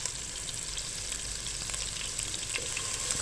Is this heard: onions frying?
yes